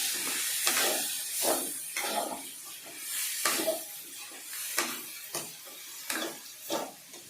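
Broad beans fry in a pan with steady hissing sizzle. Louder stirring scrapes and bursts of spitting recur every second or so, close and moderately quiet.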